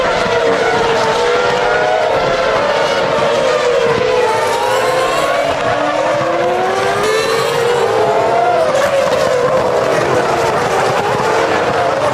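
Formula 1 cars race at the 2007 Bahrain Grand Prix, their engines screaming continuously and loud, with rising and falling pitch as several cars pass and shift gears, with a commentator talking over it.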